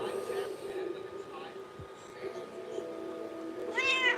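A house cat gives a single, clear rising meow near the end, close and fairly loud, after a stretch of quiet room noise and faint background game sounds.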